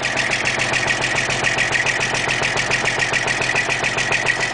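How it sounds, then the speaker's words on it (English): A Detroit Diesel truck engine idles right after a cold start, with a loud, close, steady rumble and an even rhythmic chug that runs throughout. "There's a cold start for you guys."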